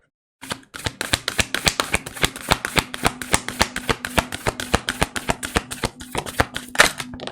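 A deck of oracle cards is shuffled by hand in a rapid run of crisp, evenly spaced riffling snaps, close and loud for about seven seconds, with no talking.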